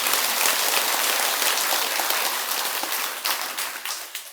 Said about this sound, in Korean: 다도 회원들에게도 박수 부탁드립니다